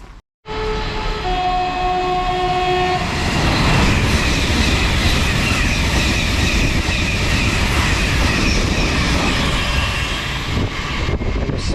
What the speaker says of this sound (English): Yeah, that's Thameslink, so that would be a 700.